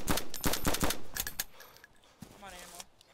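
Gunfire in the survival video game DayZ: loud, rapid bursts of shots crackle close by for the first second and a half, then fade to scattered quieter pops and game noise.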